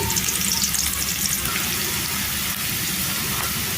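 Sliced onions fry in hot oil with turmeric for a cabbage and tomato curry, a loud, close, continuous sizzle with a watery crackle and no voices.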